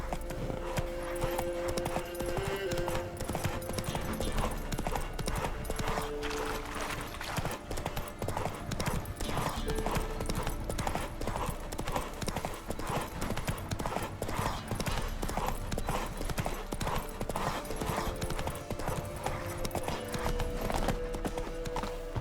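Roach, the horse in The Witcher 3, gallops in a steady, rapid clip-clop of hooves that runs unbroken for the whole stretch over a constant low game soundtrack, with a faint whinny near the start.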